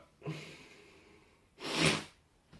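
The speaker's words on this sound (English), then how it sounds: "Oh my god, I'm gonna sneeze." A single sharp sneeze, preceded by a quick intake of breath and followed by a faint exhale, close and fairly loud.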